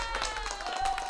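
A few people clap their hands together in a short burst of applause, a brisk and fairly close patter with no talking.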